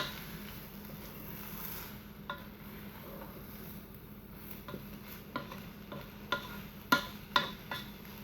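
Pork, cabbage and onion egg roll filling cooking in a Ninja Foodi pot, a soft steady sizzle punctuated by a series of light clicks and scrapes of stirring, getting sharper toward the end, no voices.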